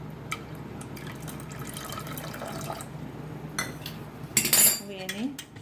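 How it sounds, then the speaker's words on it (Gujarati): Hot water poured over dhokla batter in a bowl, a steady pour under close clinks of cutlery against dishes, with a louder burst of clatter and splashing near the end. "એની ઉપર આપણે ગરમ પાણી નાખીશું."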